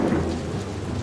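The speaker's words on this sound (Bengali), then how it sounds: "এমন বৃষ্টি বাদলার দিনে একটু গরম চপ হলে ব্যাপারটা একেবারে জমে যেত।" Steady rain with a low rumble of thunder beneath it, a dense, even wash of sound with no voices.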